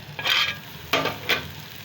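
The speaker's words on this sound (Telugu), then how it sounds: "టమాటా వేగుంటుంది చూద్దామండి" Tomatoes frying in a pan for a tomato and broad bean curry, a close hissing sizzle that swells in three short bursts amid light stirring.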